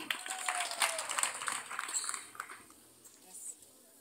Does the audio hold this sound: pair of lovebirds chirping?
no